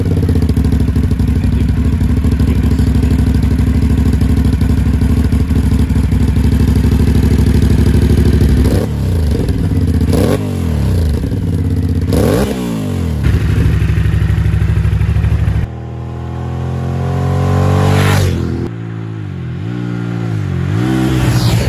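Aprilia motorcycle engine running loud and close, holding a steady idle before several sharp revs that rise and fall, with clattering mechanical noise between throttle blips.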